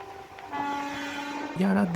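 A MEMU passenger train pulls into Yadadri railway station, its steady rumble rising before a loud horn blast near the end, heard close and over a faint murmur of voices.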